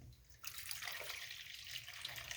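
Hot water poured into a container at home to start pizza dough: a short quiet pause, then a sudden steady splashing stream that runs continuously to the end.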